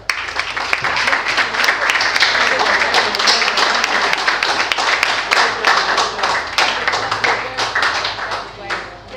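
Audience applause after a spoken word performance in Lagos: dense, sustained clapping from many hands that swells and then gradually tapers off.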